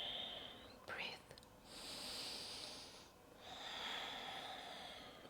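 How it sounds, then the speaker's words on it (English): Slow, deep yoga breaths drawn in and let out in an evening slow-flow class, airy and close, with soft swells of air around a brief snort-like intake early on, no talk. "3 full body breaths"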